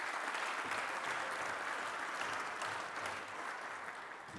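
An audience at a chefs' general assembly session gives a big round of applause, dense and sustained clapping from many hands at an even level, easing slightly toward the end.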